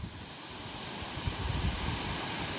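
Steady, soft rushing roar of Webster Falls waterfall in Canada, continuous and even with no voices.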